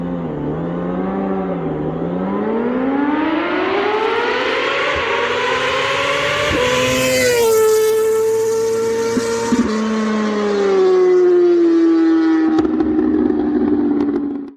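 A Yamaha R6 sport bike engine with a 17,500 RPM redline revs hard and climbs to a screaming high pitch, holds near the top through gear-like shifts, then settles, loud and close throughout.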